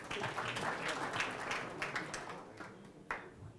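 Guests at an end-of-year dinner for the IEK president in an air-conditioned KICC room clap together, a lively scatter of hand claps with a few sharper slaps standing out, filling the room for several seconds.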